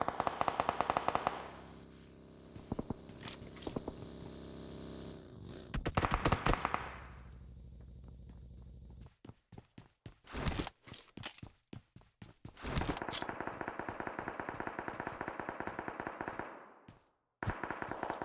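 Grenade blasts and gunfire in PUBG Mobile, with bursts of rapid shots, scattered single cracks and sustained crackling volleys across the clip, loud and close with short gaps of quiet.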